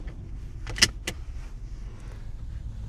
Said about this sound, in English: You reach around, grab your seatbelt, and buckle it in.